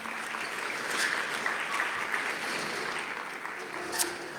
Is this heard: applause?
yes